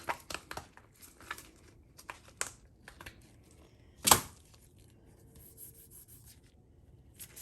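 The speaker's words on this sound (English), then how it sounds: "These are always a little tricky to demold because of the edge." A resin trinket tray is pried out of its flexible mold, with soft rubbing and crinkling rustles, scattered small taps and one sharp peeling snap midway, all quiet and close with no talk.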